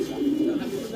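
A baby American Lakkha pigeon gives a single soft, low, throaty coo close by, lasting about a second.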